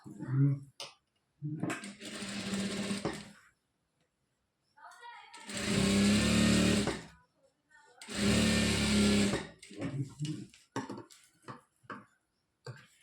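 A sewing machine stitches a folded churidar pant seam in two steady runs of a couple of seconds each, with someone talking before, between and after the bursts.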